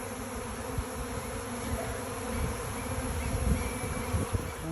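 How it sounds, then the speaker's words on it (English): A honey bee swarm on a farm, settled on a small jacaranda branch outdoors, giving a steady dense buzzing hum that continues without a break at close range. "we've just had a swarm land on a small jacaranda branch"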